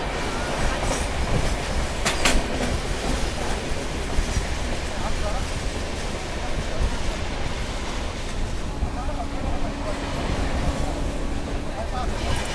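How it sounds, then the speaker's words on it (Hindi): A Vande Bharat Express passes at speed, heard from aboard an adjacent moving train near the Markanda river bridge, with a loud continuous rushing roar, rail rumble and a brief whoosh, talk mixed in underneath. "तो ये आ गई थी सामने से वंदे भारत एक्सप्रेस।"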